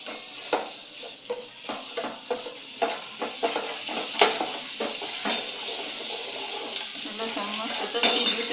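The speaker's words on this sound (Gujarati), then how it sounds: "લસણ નાખી દીધું છે તેલ એ ગરમ ફૂલ થઈ ગયું છું તો એ નાખી દીધું લસણ તતડી જાય" Garlic sizzles steadily in hot oil, with a spoon scraping and stirring the pan in intermittent strokes.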